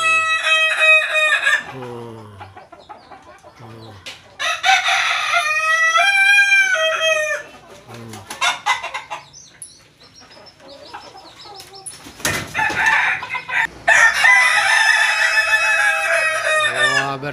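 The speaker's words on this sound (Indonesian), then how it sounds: "berbarengan jalak dan Kinantan berbarengan kokoknya" Roosters crow together in loud, overlapping cock-a-doodle-doo calls, several long drawn-out crows close by, with brief clucks and quieter gaps between bursts.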